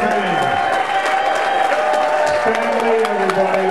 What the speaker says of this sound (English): Take the applause and just wave to your fans.